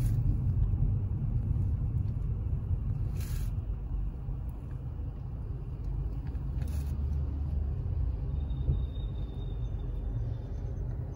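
Steady low rumble of a car driving on a Dubai road heard from inside the cabin, continuous road and engine drone with faint brief clicks, no talk.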